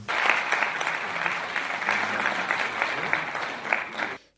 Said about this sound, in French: C'est par ces acclamations que les députés ont adopté à l'unanimité le règlement de l'Assemblée nationale.